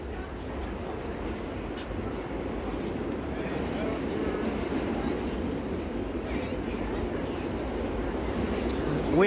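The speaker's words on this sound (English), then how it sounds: "that was the subway. One of the subway lines running here into Union Square." A subway train rumbles beneath the street grates at Union Square in Manhattan, New York City: a steady, loud low roar that fills the whole stretch and swells slightly at the end, with street voices around.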